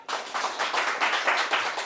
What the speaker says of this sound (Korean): 기획자 유태영님을 큰 박수로 모셔볼게요